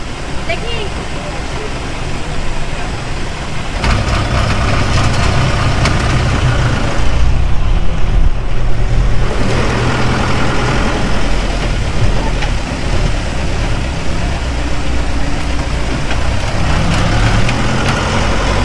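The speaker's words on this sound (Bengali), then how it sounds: "এখানে ট্রাফিক সিগন্যালের জন্য গাড়িটা কিছুক্ষণ দাঁড়ালো" A local bus sits at a traffic signal near Maynaguri, its engine idling with a steady low rumble that persists throughout, mixed with loud street noise and passing traffic close by.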